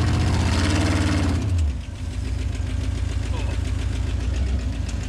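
A sand rail's engine runs out in the desert, first revving loudly and then dropping within two seconds to a steady, rumbling, lumpy idle that continues close by.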